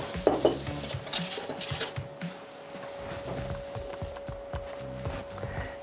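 Water hits a hot pan being deglazed for tournedos with fourme d'Ambert cheese, with a brief hiss as a utensil stirs and scrapes against the metal and pans clink nearby.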